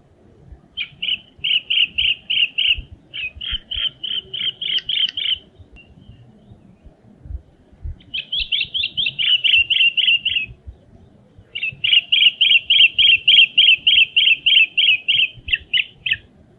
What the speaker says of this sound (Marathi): संध्याकाळी रानातील भल्या मोठ्या वृक्षाच्या आकाशात उंच गेलेल्या वटलेल्या फांदीला कंठ फुटतो आणि ही मधुर किणकिण ऐकू येते.